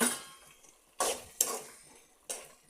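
A spoon stirring fish curry with potatoes and coconut mixture in a pot, giving three or four separate scraping, clattering strokes against the pot amid faint simmering, close and without talk.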